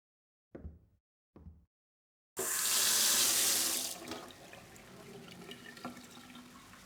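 A tap runs in a video game, filling a sink with water: a loud, hissing rush of flowing water that starts abruptly after two short taps, then settles into a steadier, quieter stream.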